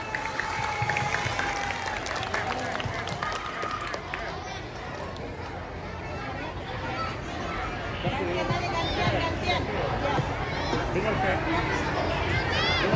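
A primary school class claps for a classmate's presentation on tempeh, a steady wash of children's applause and chatter in a classroom, continuous and fairly loud throughout.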